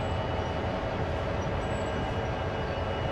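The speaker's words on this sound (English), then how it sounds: "Hopefully our train's going to stop." A train in the railway simulation game Train Sim World rolls along as it slows toward a stop, a steady loud rumble of wheels and carriage noise without pauses or speech.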